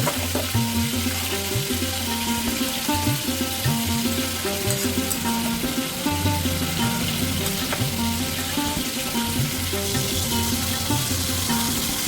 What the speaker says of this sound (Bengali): চিকেনটাকে আমি সমস্ত গ্রেভির মধ্যে দিয়ে ভালো করে কষিয়ে নিচ্ছি।